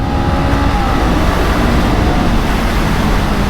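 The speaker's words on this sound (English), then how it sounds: "it feels so unnatural to rev a cruiser bike so bloody high" A Honda Rebel 500 cruiser motorcycle engine revs high while riding, a loud, steady, dense engine roar mixed with wind rush throughout, with no talking.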